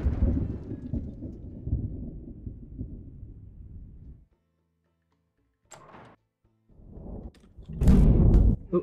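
Video game thunder: a long low rumbling roll that fades out, then a pause, followed by sharper cracks and a loud booming burst near the end.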